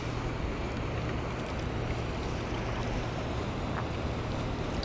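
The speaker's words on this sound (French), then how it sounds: "Le problème, c'est qu'il y a la péniche qui va m'arroser de vagues." A barge passes on a river, its wake making waves; a steady, loud wash of water and engine rumble fills the whole stretch evenly, with no one speaking.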